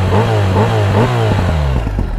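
Loud 2024 BMW R 1300 GS motorcycle with Akrapovic exhaust revving hard in quick repeated bursts, a rough, crackling exhaust note close by, pitch climbing with each blip.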